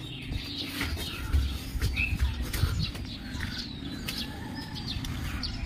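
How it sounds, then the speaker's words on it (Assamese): Small birds chirp and twitter at a temple in Majuli, with thin scattered calls over a steady outdoor hum and low rumble, moderately distant, with no talking. "চৰাইবিলাকে চিকচিককৈ মাত দি আছে ধুনীয়াকৈ, তেওঁলোকৰ শুৱলা মাত।"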